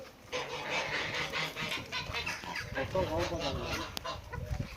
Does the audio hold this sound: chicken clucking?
yes